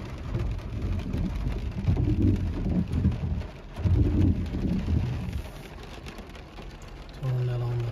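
Rain comes down steadily in Kuwait, a continuous hiss of drops striking the ground, with someone talking at intervals over the downpour.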